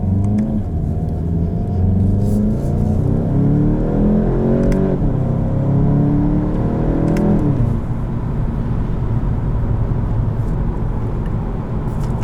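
A 2020 Volkswagen GTI with DSG gearbox accelerates on the road, its engine note climbing through two gear pulls with brief drops at the shifts, then settling into a steady loud rumble, heard from inside the car.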